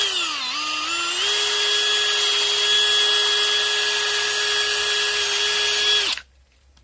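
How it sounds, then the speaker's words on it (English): A power drill bores out a hole in a Schumacher battery pack during a repair. It whines steadily for about six seconds at close range, with a brief pitch dip at the start, then stops abruptly. "I might drill it out just a little bit bigger."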